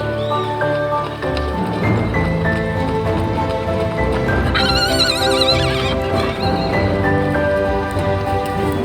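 A horse neighs over a dense, loud bed of music, the whinny rising briefly in the middle and blending into the steady mix.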